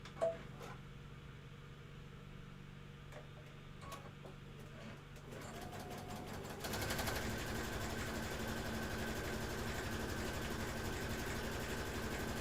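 A sewing machine stitching a quilt border runs with a soft rapid whir and faint clicks, then steps up to a louder, steadier hum partway through, close and continuous with no talk.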